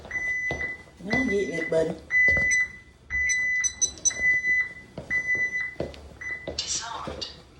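A home security alarm keypad beeps repeatedly in steady, high-pitched electronic tones before being disarmed, the beeps close and loud, with a person speaking over them and a voice briefly heard.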